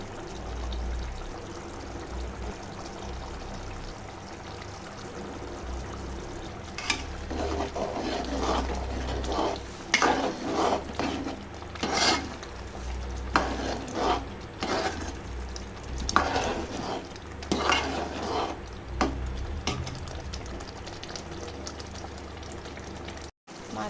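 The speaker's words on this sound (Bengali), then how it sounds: "কলিজাটা তেলে ভাজানো হচ্ছে, এখন পেঁয়াজ, রসুন, আদা বাটা দিয়ে দিব।" Beef liver fries in oil with spices, giving a steady, close sizzle throughout, with louder bursts of stirring and scraping in the middle stretch.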